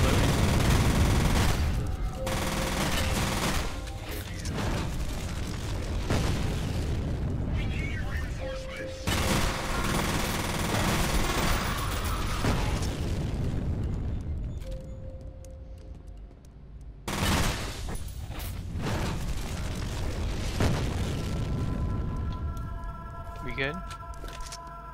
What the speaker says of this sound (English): Why is everything exploding?